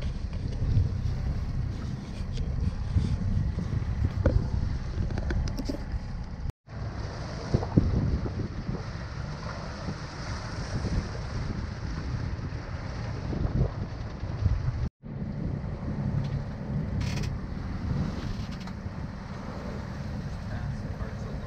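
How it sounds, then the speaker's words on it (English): A sailboat at sea off Barcelona in light, shifting wind, with steady wind rush and water noise throughout and a few soft flaps and knocks from sails flopping about; short dropouts break the sound twice. "We can't really sail. Our sails are just flopping all over the place."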